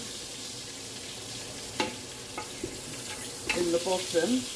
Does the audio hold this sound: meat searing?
yes